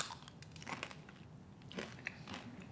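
Crunchy peppermint bark made of semi-sweet and white chocolate is bitten and chewed up close, giving a steady run of crisp cracks and crunches with sharper snaps scattered throughout.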